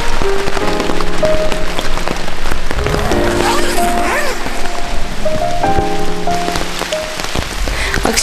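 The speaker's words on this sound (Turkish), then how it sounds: "Akşam yemeğinden sonra saat 8 gibi başlayan yağmur sabaha kadar devam etti." Autumn rain falls steadily through the night on a tent campsite in Bolu's Yedigöller National Park, a loud, dense patter of drops striking the surface with no pause for the whole stretch.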